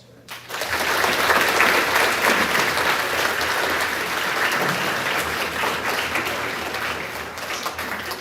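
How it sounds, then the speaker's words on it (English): Loud, dense audience applause at a grades 4–6 school awards assembly, starting abruptly after a brief quiet moment and holding steady for several seconds with a faint hum underneath. "give them a round of applause for that."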